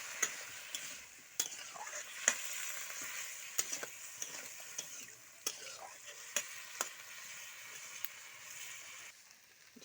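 Potatoes sizzle and fry in a pan with a steady crackling hiss, broken by repeated sharp scrapes and clinks of a utensil stirring them.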